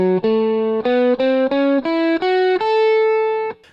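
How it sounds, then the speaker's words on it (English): Electric guitar runs up a major blues scale, about ten clean, distinct picked notes climbing in steady rhythm before a final sustained note rings out and cuts off, played alone with no talking. "If you took the major blues scale, it would sound like this."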